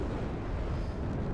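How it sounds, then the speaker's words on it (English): Explosion in World of Warships, a brief dense rumbling boom that fills the short moment with loud low-end roar. "Every cool man never sees the explosion."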